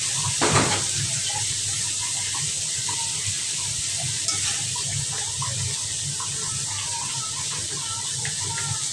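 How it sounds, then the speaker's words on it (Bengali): Tomatoes and green chili added to shrimp frying in oil: a brief clattering burst at the start, then a steady hissing sizzle with light stirring sounds. "টমেটো আর কাঁচামরিচ একসাথে দিয়ে দিব।"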